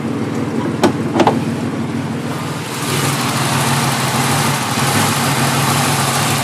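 A Chevrolet Beretta's 3.1 V6 engine idles steadily nearby, a continuous low rumble that grows a little louder and fuller partway through, with a couple of brief clicks early on.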